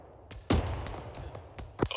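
Gunfire in the military video game Arma 3 on the Chernarus map: a loud close blast followed by a rumbling tail, more scattered shots and another sharp report near the end, with no talking.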